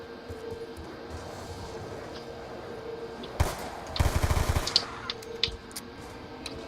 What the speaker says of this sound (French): je suis obligé de vider mon chargeur